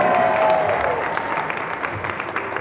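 An audience at a live music performance claps, a dense wash of applause that starts strong and tapers slightly over a few seconds, with a brief whistle near the start.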